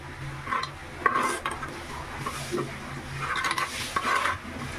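Tamarind juice goes into an egg curry in a pan, bringing light metallic clinks of a utensil against the pan over a soft sizzle and stirring, with scattered close-up clatter and no speech.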